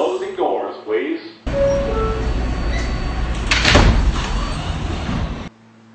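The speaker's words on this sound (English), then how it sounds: "Stand clear of the closing doors" Subway train doors sliding shut on a local N train at a station, a broad loud rush with a sharp thud near the middle, following an announcement voice over the speaker.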